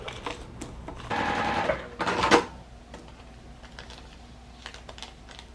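A sewing machine stitches fabric raw edges together for a quilt block, running in short close bursts of rapid mechanical stitching with quieter pauses in between.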